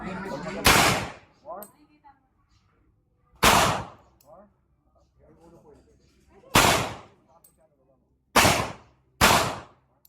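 Five loud, sharp gunshots at an outdoor funshoot firing range, spaced a few seconds apart, each a sudden full-band crack with a short decay, with people talking quietly between the shots.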